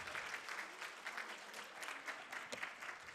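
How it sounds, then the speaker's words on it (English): An audience at a food service graduation ceremony claps, sustained applause heard at a distance and fairly quietly, with a few sharper individual claps standing out from the steady patter. "Could we have one more round of applause?"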